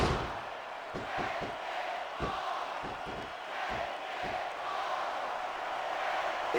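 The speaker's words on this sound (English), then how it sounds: "this crowd can't get enough of it" Arena crowd noise from a wrestling match in SmackDown vs Raw 2006, a steady roar of cheering under a series of sharp thuds and slams, heard continuously with no talk.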